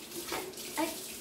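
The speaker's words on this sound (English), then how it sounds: "turn the water off" Water runs steadily from a tap into a sink, a soft, close hiss with slight splashing fluctuations throughout.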